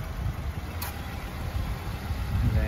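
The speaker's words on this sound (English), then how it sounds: "engine's running, the AC is working great. That's what you hear cutting in and out." A 2011 Subaru Forester 2.5 engine idles steadily at close range, a low even rumble with the air conditioning compressor cutting in and out, no voices over it.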